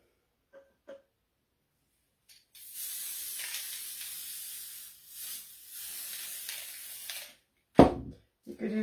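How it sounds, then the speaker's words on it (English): Spray adhesive hisses from an aerosol can in one steady burst lasting several seconds, close and fairly loud, with a brief pause partway through, followed by a few handling clicks and knocks at the end. "I don't like getting that spray adhesive on my fingers"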